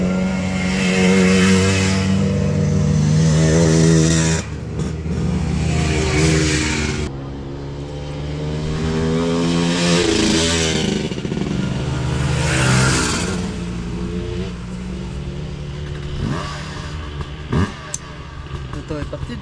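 Enduro motorcycles setting off at an event in Aubusson, engines revving and droning close by while people talk over them.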